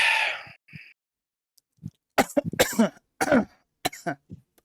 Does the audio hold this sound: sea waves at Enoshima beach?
no